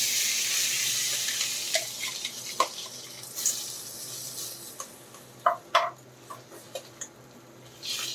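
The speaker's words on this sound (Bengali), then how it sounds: "সেদ্ধ করা আলুগুলো এতে দিয়ে দেবো" Boiled potatoes go into a frying pan of hot oil, giving a faint steady sizzle with scattered sharp clicks and clatters as they are dropped in and moved around.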